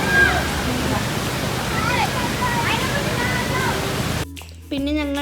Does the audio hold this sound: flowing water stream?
yes